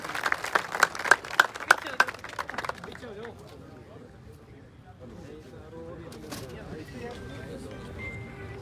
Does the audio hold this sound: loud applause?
yes